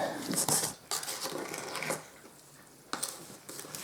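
Tile grout mix being stirred in a container: faint, intermittent gritty scraping and scuffing in short bursts, quiet and close, with no talk.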